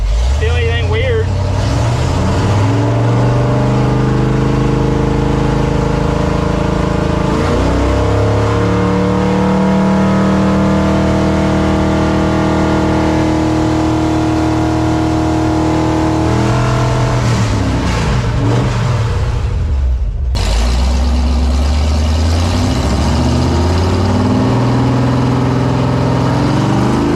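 A race truck engine revs hard and repeatedly, climbing in pitch toward the rev limiter and falling back, loud and close, with a sudden cut and a fresh rev near the end.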